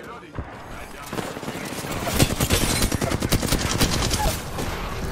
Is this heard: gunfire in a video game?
yes